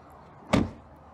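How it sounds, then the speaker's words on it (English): The rear door of a 2022 Mercedes-Benz GLA 35 AMG SUV closes with a single solid, close thud, leaving quiet before and after. "Let's hear how it sounds when you close the door."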